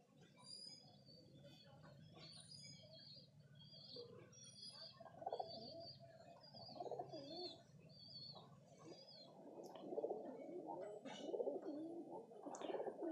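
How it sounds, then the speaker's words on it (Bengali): A very small giribaz pigeon, a high-flying breed, coos softly and repeatedly close by, with faint chirps from other birds and a few quiet wing rustles mixed in. "এ হচ্ছে পায়রা, খুবই ছোট্ট সাইজের পায়রা"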